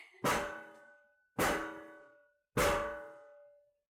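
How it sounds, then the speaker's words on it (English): Three loud, ringing metallic knocks at a door in a staged Mozart play, evenly spaced about a second apart, each with a sharp attack and a lingering resonant decay, alone with no talking. "What is that knock I hear?"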